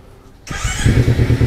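A Kawasaki Ninja fuel-injected motorcycle that sat unused for three years starts up close by, its engine catching abruptly after a quiet moment and settling into a loud, throbbing idle.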